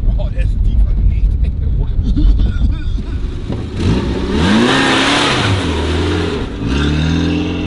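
Small car engine revving up and accelerating at close range, a rising whine that climbs in pitch over several seconds, with excited voices talking over it.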